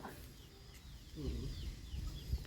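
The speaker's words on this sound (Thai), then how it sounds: "ไก่เปียดลายเลยเนาะ" Farmyard chickens clucking at a rural Thai home, a few soft, brief clucks over low background noise, fairly close but quiet, with no talk.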